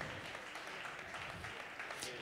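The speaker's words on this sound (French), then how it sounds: "Et on les applaudit" Scattered applause from an audience at a Nancy business forum greeting presenters, a steady diffuse patter of many hands at moderate distance with crowd murmur mixed in.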